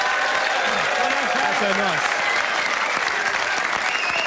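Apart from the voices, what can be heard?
audience applause for a comedian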